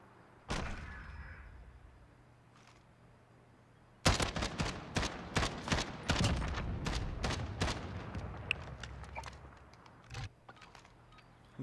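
Gunfire in a hardcore-mode shooter match on the Backlot map: an isolated loud shot, then a dense burst of rapid sharp reports from about four seconds, tapering to scattered shots and a final crack.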